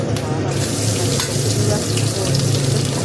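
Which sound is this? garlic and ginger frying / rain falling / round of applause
garlic and ginger frying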